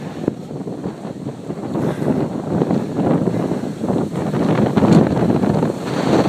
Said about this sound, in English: You can probably hear it's pretty windy.